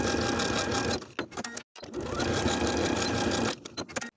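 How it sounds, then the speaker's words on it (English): Sewing machine stitching a pant waistband seam, a close steady whirring run that stops briefly, starts again for a longer stretch and then ends with a few short bursts, heard on its own. "for the right pant piece, we're sewing from the top to the bottom of that waistband piece in the same way"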